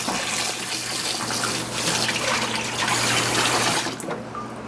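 Running water splashes loudly and steadily over rice being rinsed in a kitchen, a continuous gushing rush that eases off near the end.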